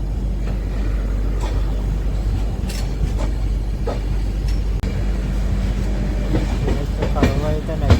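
A Vistadome coach train on the Visakhapatnam–Araku line rumbles steadily from inside the carriage, wheels clicking over rail joints in an irregular rhythm, with a few brief voices rising toward the end.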